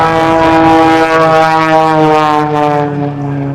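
A single aerobatic propeller airplane engine performing at the Reno Air Race gives a loud, continuous harmonic drone that wavers slightly in pitch as the aircraft holds and maneuvers, with no voices over it.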